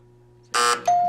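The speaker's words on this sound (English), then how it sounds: "sorry the buzzer sounds" A quiz show buzzer at a high school academic competition, two loud electronic tones in quick succession, a harsh burst followed by a sustained steady tone, sounding alone over a quiet room.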